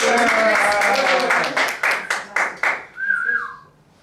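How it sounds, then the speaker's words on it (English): Crowd at a trainees' stage show breaks into a burst of clapping and cheering, loud at first and then thinning into scattered claps, with a single rising whistle near the end and voices mixed in. "how about a big round of applause for"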